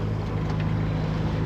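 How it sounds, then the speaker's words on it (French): A sailboat's motor runs steadily during an open-sea crossing from Guadeloupe to Antigua, a low continuous engine drone with a hum mixed with wind and water noise, fairly loud and unbroken. "je vais faire un petit peu de moteur"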